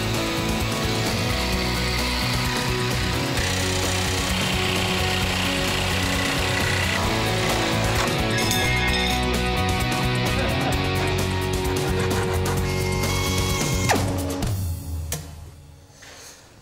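A loud power tool grinds and rattles continuously while cutting tailgate pieces for a 4x4 build, a harsh close mechanical chatter that runs steadily before winding down at the end.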